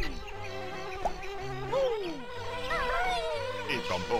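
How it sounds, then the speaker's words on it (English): Bees buzz loudly and continuously with wavering pitch, layered over synthetic game music and sound effects in Banjo-Kazooie's Click Clock Wood level. "Bees. Bees. What's with all the bees?"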